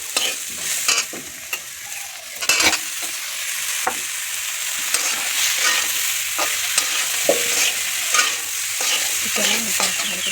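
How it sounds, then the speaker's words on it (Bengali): Chopped onions frying in a pan on a gas stove, a steady sizzle with repeated scraping strokes of a spatula as they are stirred, close and clear with no talking. "ভাজা ভাজা করে তারপরে জল দিয়ে দিব।"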